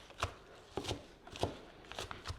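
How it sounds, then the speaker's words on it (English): A sharp knife chops salad leaves on a board in quick, separate cuts, about five crisp thuds spaced roughly half a second apart, close but soft. "we dump out the leaves here and we just give it a few passes with a nice sharp knife"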